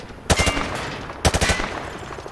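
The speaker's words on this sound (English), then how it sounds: "He sprayed bullets all over the damn place." Two quick bursts of automatic gunfire sprayed from the hip at range targets in Modern Warfare 2, each a loud rapid string of shots with a short decay, separated by a brief pause.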